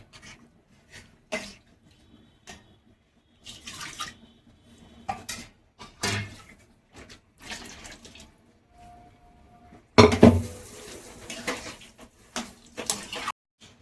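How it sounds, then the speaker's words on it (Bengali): Water from boiling chickpeas is poured into a cooking pot in a kitchen, in short intermittent splashes and clinks of utensils, with a louder, longer gush of pouring toward the end. "কাবলি ছোলা সিদ্ধ করা জলটা দিয়ে দিচ্ছি।"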